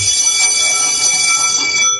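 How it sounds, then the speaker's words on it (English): An electric school bell rings continuously and loudly, a steady metallic clangor with a constant tone holding for the full two seconds with no pauses. "let's get the school bell going"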